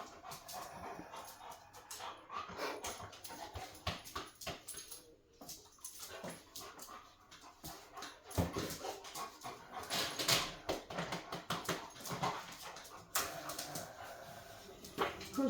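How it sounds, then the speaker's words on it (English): A dog whimpers and pants close by, with repeated short whines and breathy pants in irregular bursts over a busy background. "Pretty dog."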